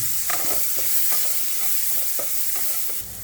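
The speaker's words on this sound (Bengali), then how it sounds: "আবার একটুখানি তেল, আর তাতে চলে যাবে অল্প একটুখানি পেঁয়াজ।" Onion frying in oil for chicken tehari, a steady close sizzle with repeated spatula scrapes and stirs against the pan, no talking.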